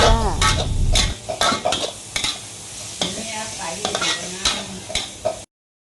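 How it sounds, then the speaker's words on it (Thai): Beef sizzles in hot oil in a pan as it is stir-fried for a dry-style holy basil dish, with a spatula scraping and clanking against the metal in quick irregular strokes over a steady frying hiss. "ผัดเนื้อจะตอนน้ำมันไปก่อนนะจ๊ะ"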